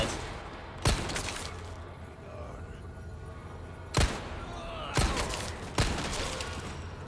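Four sharp gunshots from the video game Resident Evil 4 crack out, one alone near the start and three closer together toward the end, over a low steady background rumble.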